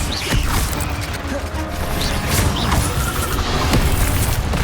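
Fire spell and combat effects from the video game Hogwarts Legacy: a dense, steady wash of magical whooshes, crackles and booming impacts, with scattered bright bursts layered throughout.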